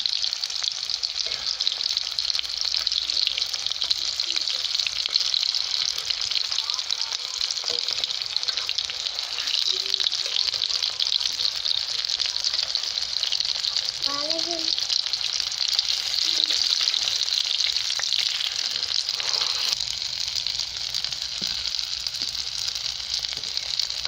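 Chicken and potato kebabs fry steadily in a pan with a continuous loud, close sizzle for the whole stretch, broken only by a few faint clinks and shifts as pieces are turned.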